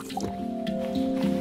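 Water being collected in the survival game Stranded Deep, with short wet drips and squishy liquid sounds over a steady background drone, close and moderately loud.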